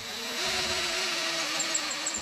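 Drill boring into a beech yarn bowl blank on a lathe, a steady whining motor hum with a continuous grinding tone, close and fairly loud, no talking.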